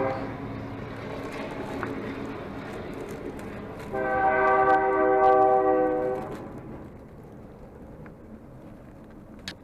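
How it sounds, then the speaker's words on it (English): A train rolls past nearby, a broad steady rumble swelling louder in the middle with a sustained tonal horn-like chord for a couple of seconds, then fading back to a lower rumble. "I'll do that while the train's going by."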